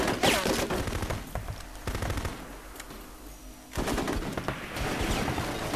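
Gunfire from the Full Spectrum Warrior video game, with repeated rapid bursts of automatic weapons fire in loud clusters near the start and again after a brief lull, ringing out as a dense battle sound.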